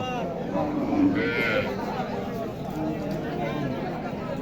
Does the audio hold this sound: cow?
yes